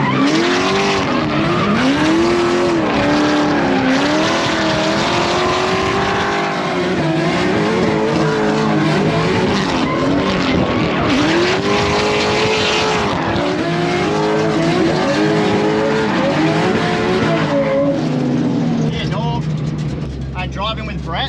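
A drift car at a grassroots drift event pushed sideways at a big angle with a Scandinavian flick, its engine revving hard and wavering while tyres squeal continuously, loud and close, with voices talking over it before the noise fades.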